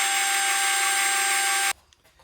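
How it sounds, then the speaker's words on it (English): A power drill bores a tuner hole through a guitar headstock clamped to a backer board, a loud steady high-pitched whine close by that cuts off abruptly, followed by faint handling noise. "Here we go, let's drill it."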